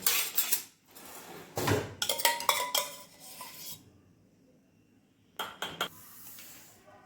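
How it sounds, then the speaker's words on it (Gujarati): A metal spoon stirring Hershey's syrup and Oreo in a glass or bowl. It clinks and scrapes in quick bursts, goes quiet for about two seconds, then clatters briefly again, close and fairly clear, with no voices. "નાખી દે હલાવીને, આમ સ્પૂનથી હલાવી દે."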